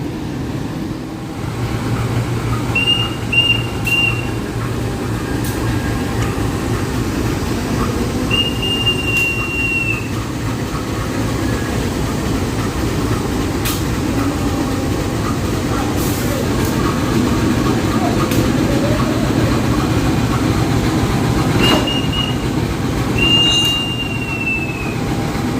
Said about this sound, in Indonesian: nah ini lokomotifnya datang nih. Kita rekam proses penyambungannya.